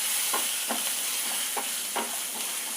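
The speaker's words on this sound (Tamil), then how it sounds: "புளி சேர்த்து சிம்மில் வச்சுட்டு அதை அப்படியே ஆட்டம்" Tamarind mixture simmering in a pan, a constant hiss of sizzling with regular scraping stirs every half second or so, close and alone.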